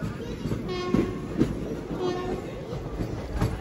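A Guntur–Aurangabad Express passenger train rolls along steadily with a continuous rumbling hum and faint rail clatter, a couple of brief tonal squeals rising above the low, even noise.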